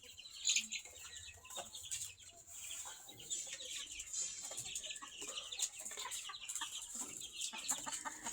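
Desi chickens kept as parent stock and their young chicks cluck and peep continuously on a farm, with a busy overlapping chorus of soft calls and occasional sharper squawks at moderate distance.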